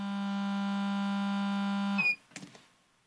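A GD-888 gas detector gives a long, steady electronic tone that cuts off abruptly as its pump is switched, followed by a few faint clicks and handling noises.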